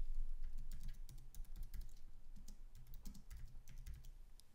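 Rapid typing on a computer keyboard, a steady patter of close, crisp key clicks with brief pauses, alone against a faint low hum.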